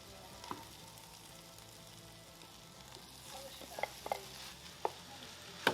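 Homemade pork and beef mince frying in a pan for Bolognese, a low steady sizzle with a few sharp clicks and scrapes from stirring, fairly quiet and close.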